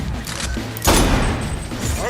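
Gunfire in the video game Saints Row the Third, a burst of shots and mechanical clatter swelling loud near the middle, with game noise around it.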